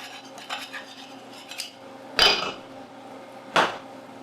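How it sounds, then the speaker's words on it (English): Metal whisk clattering and scraping against a pot as flour is worked into a vegan roux, several sharp clinks and scrapes standing out from a quieter stirring background. "Now I'm going to whisk in this flour."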